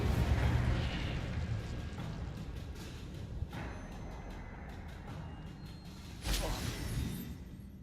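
Fire spell cast in Hogwarts Legacy, heard as one sudden roaring burst near the end over a steady rumbling game soundscape.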